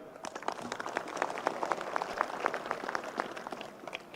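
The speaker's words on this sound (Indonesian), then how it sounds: "Kita tepuk tangan dulu." Audience members at a religious gathering clap in a faint, distant patter, individual claps audible as a loose, uneven rhythm that carries on throughout.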